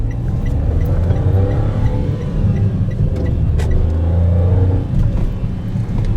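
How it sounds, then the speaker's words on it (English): A Toyota hatchback's engine drones loud and close from inside the car as it accelerates, a steady low rumble that swells slightly and holds without speech. "Okay, here we go. Acceleration."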